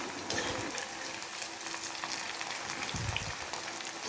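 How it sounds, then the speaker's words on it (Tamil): Cauliflower florets fry in hot oil for chilli gobi, giving a steady, dense, close crackling sizzle like light rain that continues throughout with no speech. "இன்னொரு பக்கமும் நல்லா மொறுமொறுன்னு வர அளவுக்கு பொரிச்சுக்கலாம்"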